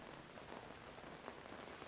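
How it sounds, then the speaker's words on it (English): Steady rain falls at an outdoor baccalaureate ceremony, a dense, even patter on surfaces that holds at a constant low level throughout, with no voices heard. "even though it's raining"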